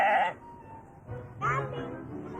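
A goat bleats in short nasal cries, a loud burst at the start and a wavering second call after a pause, close by with a low rumble beneath.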